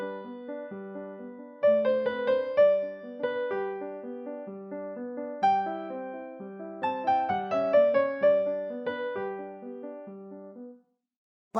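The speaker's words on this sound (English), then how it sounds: "if I played it loud, it would sound like this." A piano melody played loudly and smoothly over an accompaniment, with several strong phrase attacks in succession and a sustained, connected line that ends abruptly.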